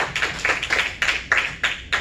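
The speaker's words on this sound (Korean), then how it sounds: "사무총장님께 다시 한번 큰 박수 드리겠습니다." Several bursts of clapping from a small audience at a lecture on Korean history in Washington, irregular and fairly close, each flurry lasting a fraction of a second with brief pauses between.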